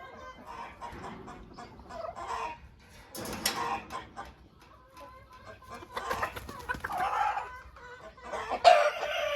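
Hens, including an Araucana, cluck and chatter in several short bursts nearby in a chicken coop, with a louder squawk near the end and quiet gaps between.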